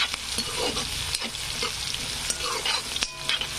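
Chopped onions frying in oil in a pan for kanda poha, a steady close sizzle and crackle with occasional scraping of a spoon stirring them, with no talking.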